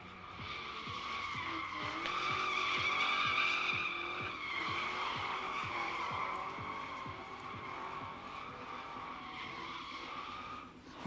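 A Mustang GT drifts at the Big Indian drift pit, its tires squealing in a long sustained wail under a steady engine drone, heard from a moderate distance for the full stretch.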